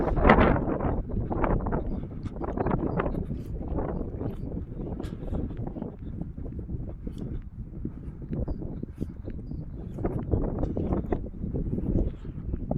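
Steady cold wind buffeting a microphone at the Buchenwald memorial site, a continuous rough rumble with gusty swells and no other clear sounds.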